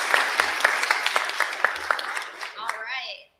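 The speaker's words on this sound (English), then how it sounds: "can we give a big round of applause to Taylor?" A short round of applause for a presenter at a university event, clapping that fades out toward the end while a voice speaks over it.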